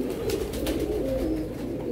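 Pigeons, paired birds kept in a loft in the morning, coo steadily and continuously at close range, a soft, throaty rolling murmur layered from several birds with no talking.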